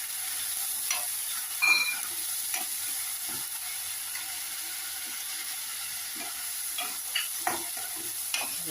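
Steady sizzling of goat meat frying in a pot for mutton curry, with scattered scraping and clinking as it is stirred now and then.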